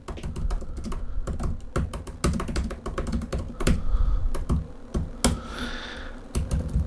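Keys clicking and a trackpad being pressed on an Apple Magic Keyboard for the 11-inch iPad Pro, a steady run of close, crisp taps in irregular rhythm with no talking.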